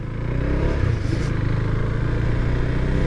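A KTM Duke 390 motorcycle riding under steady acceleration, its single-cylinder engine droning loud and continuous with a rising rev and constant road and wind noise.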